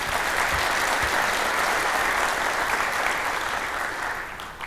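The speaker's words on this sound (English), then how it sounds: "Please give him a round of applause." Audience at a Columbia County community event applauds for a school superintendent being introduced on stage, a steady dense wash of clapping that holds for several seconds and tapers slightly near the end.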